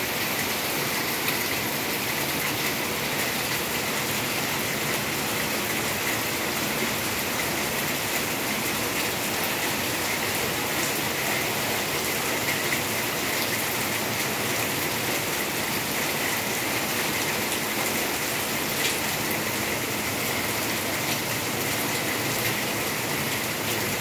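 Steady heavy rain pours down in an unbroken wash of drops, soaking clothes hung out on a line, loud and close with no voices.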